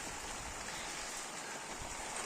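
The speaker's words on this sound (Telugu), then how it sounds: "ఇప్పుడిప్పుడే గాలి వర్షం అయితే కొడుతుంది" Storm wind and rain lash a village during Cyclone Mentha, a steady, dense hiss of rainfall and gusts running without pause through the whole stretch, with no voices.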